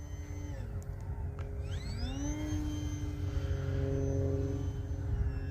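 A Durafly Tundra V2 RC model airplane flies overhead, its motor giving a steady whining hum whose pitch rises and falls as the plane passes and turns, moderately loud over outdoor background noise.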